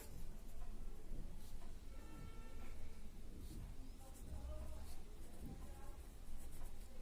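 A pen scratches faintly and steadily across paper as a maths statement is written out by hand during a class lesson, with quiet room noise underneath.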